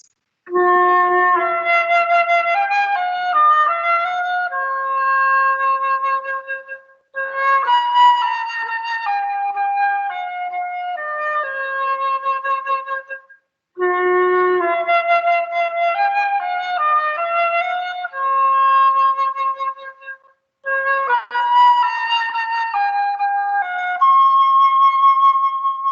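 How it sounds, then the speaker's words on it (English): A flute plays alone, with several flowing phrases of runs and held notes separated by short breaks, loud and close. "Here's the flute."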